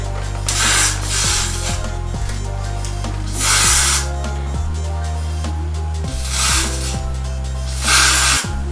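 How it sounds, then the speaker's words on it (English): Hair spray hisses in three short bursts, separated by longer pauses, with steady background music underneath. "So now, I'm gonna take my spray, right? My free spray, and I'm gonna just start spraying."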